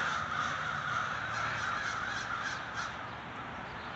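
Crows caw in the woods in a continuous, overlapping chorus. The sound is steady and moderately loud throughout, with no voices.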